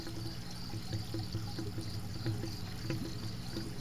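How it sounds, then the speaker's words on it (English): Water welling up through a gravel grow bed around an aquaponics bell siphon, a steady close trickling and pouring with soft gurgles and no voices. "I dug a little hole here so you can see the water coming up."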